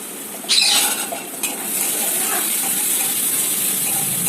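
Pasta ingredients, including chopped tomato, fry together in a pan with a loud, steady, steamy hiss. A brighter burst rises near the start, then the sizzle settles into an even, close rush.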